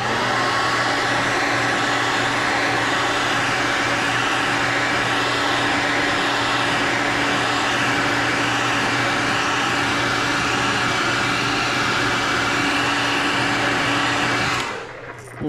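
Heat gun heat-setting paint on a fishing lure, a loud steady fan-and-blower whine with a constant hum, running unbroken for about fifteen seconds before cutting off abruptly at the end.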